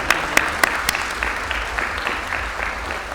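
An audience at a university sports performance center naming ceremony breaks into applause, a few sharp individual claps at first spreading into steady, even clapping from a sizeable crowd, close and fairly loud.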